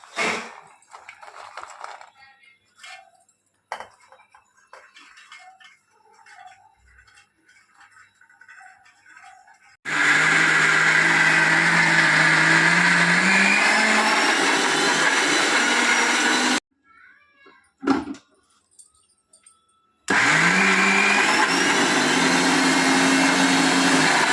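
A kitchen mixer grinder whirs loudly as it grinds ginger and green chilli, running in two long continuous bursts after a quieter stretch of light handling noises.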